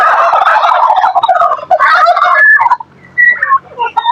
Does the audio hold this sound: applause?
no